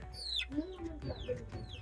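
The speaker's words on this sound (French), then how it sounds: "Il y a aussi cette poule là qui ne fait que créer du désordre." A hen in a farm enclosure clucks repeatedly at close range, giving short fowl calls over a low background murmur.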